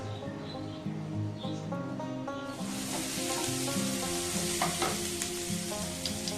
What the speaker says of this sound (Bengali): এদিকে দেখো মশলাটা প্রায় ভাজা হয়ে এসছে।